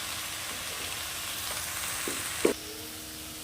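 Leafy greens frying in a pan with fried onion and garlic, a continuous close sizzle and hiss with a couple of soft stirring knocks near the end, no voices.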